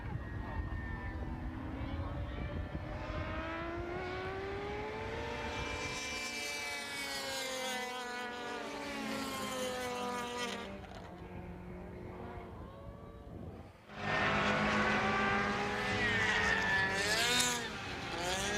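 Race cars in qualifying and racing at Hallett circuit scream past with rising and falling engine pitch, one louder pass surging near the end, while a commentator talks over the track noise.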